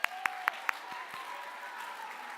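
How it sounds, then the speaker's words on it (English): Audience applause at a Miami Book Fair talk, greeting a young volunteer who came up to solve a puzzle, starting with a few sharp claps before settling into a steady, moderate patter of clapping that carries on to the end. "let's give Carly a round of applause"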